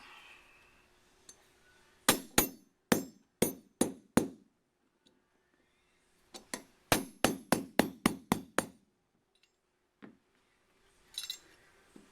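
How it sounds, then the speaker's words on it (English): A hammer drives a roll pin out of a Winchester Model 94 .30-30 rifle: two bursts of sharp, close metallic taps, about six and then eight blows in steady rhythm, with a couple of stray knocks after, in a quiet workshop. "This particular one I see here, it has a roll pin, so we'll just drive that roll pin out"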